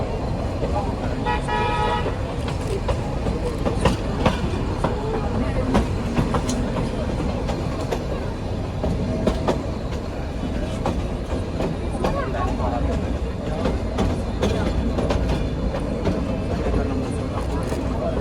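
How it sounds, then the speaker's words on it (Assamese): Ooty toy train on the Nilgiri line at Coonoor station: a steady rumble of rolling carriages on the rails runs throughout, with a short horn toot near the start and faint background voices. "12:15 হৈ গ'ল আৰু ট্ৰেইন আমাৰ ষ্টাৰ্ট হ'ব"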